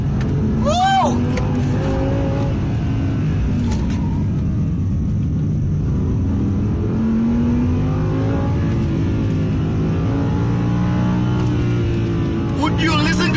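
A 2017 Audi R8 V10 Plus engine revs hard while driving on the road, loud and close, climbing and falling through the gears with a rising whine, with excited talk in the cabin at the start and end.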